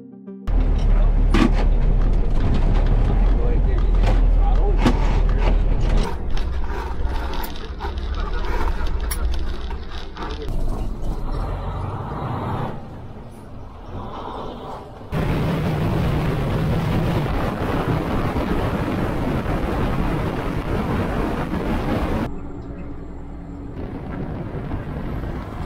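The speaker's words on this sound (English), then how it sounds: "Given it gas now, I'm waiting for it to shift the gear" A Volvo truck with an automatic gearbox accelerates, its engine giving a steady, loud, broadband rumble and roar that holds for the whole stretch with a few level changes, heard from inside the cab with some talk mixed in.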